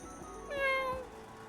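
A person imitating a cat's meow with the voice, a single drawn-out mew in the middle of a quiet room, clear and close.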